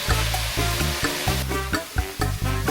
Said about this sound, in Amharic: ነጭ ሽንኩርታችንን ሁሉም ላይ እንጨምርና እናማስላቸዋለን ማለት ነው።